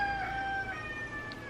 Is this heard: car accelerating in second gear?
no